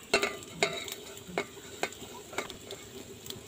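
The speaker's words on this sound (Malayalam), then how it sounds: "നമ്മൾ ഇട്ട് വെച്ചത് ഇളക്കി കൊടുക്കാം." Hibiscus tea being stirred in a pot of boiling water, with a series of distinct spoon clinks and scrapes against the pot over a faint bubbling background.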